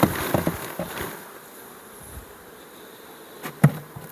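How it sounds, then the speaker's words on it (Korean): Honeybees buzz steadily around an opened hive as bees are shaken off a brood frame, with a few soft knocks and a sharper thump near the end. "충판에 있는 벌을 털어줘야 어린 벌들이 많이 있죠"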